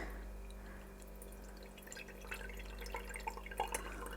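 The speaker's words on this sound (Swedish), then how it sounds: "jag ska helt enkelt bara hälla upp lite sav, eller lite björkvatten här" Birch sap poured into a cup in Lapland: a quiet, close trickle with scattered small drips and splashes over a steady low hum, with no voices.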